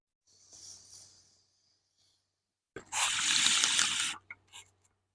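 Water runs from a tap while being changed, a short faint trickle and then a louder steady gush of about a second and a half, ending with brief splashes.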